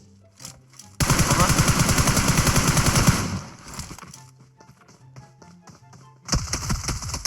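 Rapid automatic gunfire from PUBG Mobile at the Fişek depot bursts loudly for about two seconds, falls to quieter scattered shots, then another heavy burst erupts near the end.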